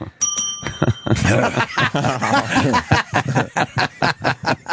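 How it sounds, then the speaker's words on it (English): A bell rings with a bright, clear ding at the start, and laughter and chuckling follow in a studio setting. "No, it's a bell."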